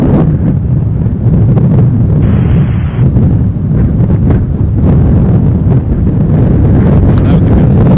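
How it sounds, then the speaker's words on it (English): Gusting wind buffets an outdoor microphone at Toronto Pearson Airport, producing a loud, continuous low rumble that fills the whole stretch with no break. "That was a gust."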